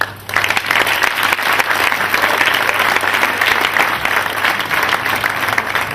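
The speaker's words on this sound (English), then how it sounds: "A round of applause, please." Sustained audience applause after a lecture at a formal induction ceremony, loud and dense from the start and continuing without pause for several seconds.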